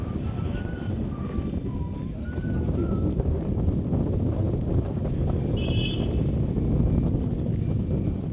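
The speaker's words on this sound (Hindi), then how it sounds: "हवा कितनी तेज़ थी, आप इसका अंदाज़ा उसकी आवाज़ से लगा सकते हैं।" Strong wind roars and buffets loudly against the microphone without letup near Naini Lake in Nainital, with a few faint high chirps heard in the distance.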